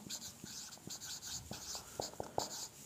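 Chalk or marker writing on a board during a physics lecture on frames of reference, heard as soft scratchy strokes and short taps in an irregular rhythm, faint and close, with no talking.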